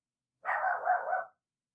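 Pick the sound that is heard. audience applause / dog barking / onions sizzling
dog barking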